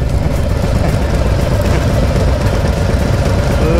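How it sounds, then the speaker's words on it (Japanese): Many Harley-Davidson motorcycles crowd a parking lot at the JOINTS 2024 bike event, their exhausts merging into a loud, steady, low rumble of idling engines that holds without a break. "こんだけ集まっちゃうともう排気音も轟音だよね。"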